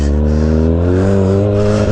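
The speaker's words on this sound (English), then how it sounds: "This bike is like with the power commander and the air filter and the full exhaust, Two Brothers exhaust. It sounds nice." A motorcycle fitted with a Two Brothers full exhaust, power commander and aftermarket air filter runs loud and close, its deep, steady engine drone creeping slightly upward in pitch as it revs.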